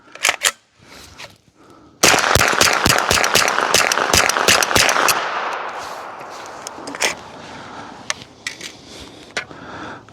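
Rapid gunfire from an MPA Defender pistol fed by an SGM Tactical 32-round extended magazine, starting with a few single shots, then a fast string of sharp cracks, loud and close, fading into echo.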